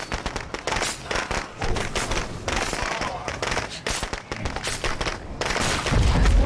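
Firecrackers go off in a video game as a dense, rapid crackle of sharp pops and bangs that fills the whole stretch, loud and continuous, ending in a heavier low thump.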